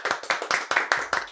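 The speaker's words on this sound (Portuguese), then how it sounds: "Uma nosso salva de palmas, uma salva de palmas." A small studio group at a podcast claps for a guest, about six or seven close, sharp hand claps in a quick, even rhythm.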